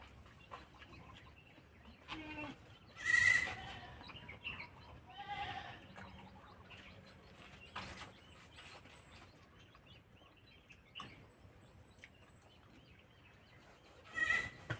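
Goats on a farm bleating in short, scattered calls, a few louder bursts standing out against a quiet outdoor background with occasional faint rustling.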